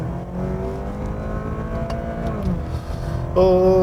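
A 2017 Cadillac ATS 2.0T engine drones steadily at high revs in manual paddle-shift mode, its pitch climbing slowly before a sharper rise near the end, with no talking.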